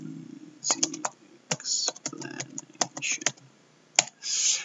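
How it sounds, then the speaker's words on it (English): Typing on a computer keyboard while entering text into a diagram program: bursts of quick, close clicking keystrokes separated by short pauses, ending in a louder rush of rapid keys. "and then you type your text like this"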